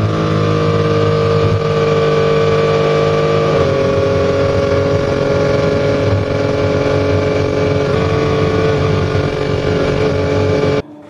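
A Ferrari F50 V12 engine runs at a loud, sustained roar for about eleven seconds, steady in pitch with a slight change in tone partway through, then cuts off abruptly at the end.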